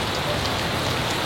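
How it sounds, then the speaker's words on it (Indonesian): Rain falling in a steady, dense hiss of drops striking surfaces, loud and close, with no talking. "Lagi hujan men, ngonten kali ini hujan."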